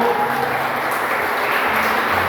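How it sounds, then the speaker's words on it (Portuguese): Worshippers at an evening church service applaud together, a thick, even wash of clapping that holds at a steady loudness without a break. "Você vai aplaudir ao Senhor?"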